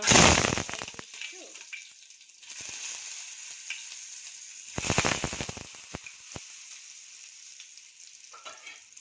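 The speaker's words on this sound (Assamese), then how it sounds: "এতিয়া মই ইয়াতে আলুখিনি অলপ ফ্ৰাই কৰি লওঁ।" Potatoes drop into hot oil in a kadai for chicken biryani and burst into a loud sizzle, which settles into a steady frying hiss. Occasional stirring clatters and renewed bursts of crackling follow.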